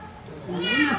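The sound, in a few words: cat meowing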